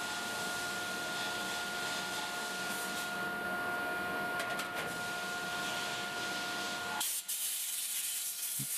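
Compressed air blasts solvent and dirt off reconditioned Bosch diesel fuel injector parts in a workshop, a loud continuous hiss lasting about seven seconds before cutting off abruptly, leaving a quiet room with a faint tap.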